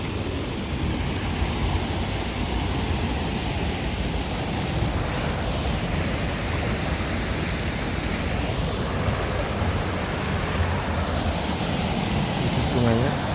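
A river rushes steadily near a mountain village path, with a dam-like weir nearby, giving a continuous broadband wash of flowing water that stays loud and even throughout, with no voices over it.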